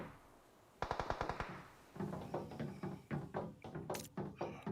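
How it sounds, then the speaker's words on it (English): Machine-gun fire in a competitive shooter video game, a quick burst of rapid shots followed by several more spaced bursts and single cracks, fairly close and sharp. "Rash sitting down there in the water, trying to escape the gunfire from Mena."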